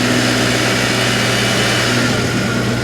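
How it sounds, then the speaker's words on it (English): A BMW E36 318i four-cylinder engine runs loud and close with a steady broadband roar and a low droning hum, held at a fairly constant pitch with no clear rise and fall across the short stretch. "running it, revving it up a little bit, and letting it down, revving it up, letting it down"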